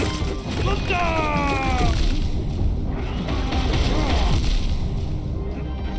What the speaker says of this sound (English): seems like the explosions deal Zote's damage